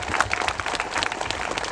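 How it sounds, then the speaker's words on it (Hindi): An audience at a church Mass applauds to welcome a visiting priest, a brief burst of dense, steady clapping from many hands. "जोरदार तालियां बजा दीजिए"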